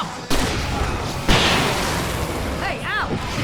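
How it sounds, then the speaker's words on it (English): Fireworks bursting in Alan Wake, two sharp booms early on against a constant noisy background, with a whistling rise near the end, loud and close. "I can set off more of the fireworks from here and help you out!"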